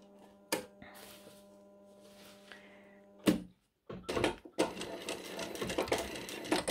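A sewing machine stitches down a fold on a fabric pouch in short close bursts of rattling, with pauses and a longer continuous run at the end.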